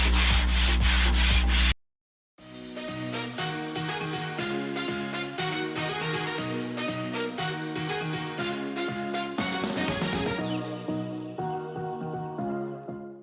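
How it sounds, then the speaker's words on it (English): Wood is sanded by hand with 400 grit sandpaper on a simple desk top, a steady rhythmic rasp of back-and-forth strokes, close and continuous after a short opening burst and brief gap. "I'm using 400 grit for this, just to go over it lightly"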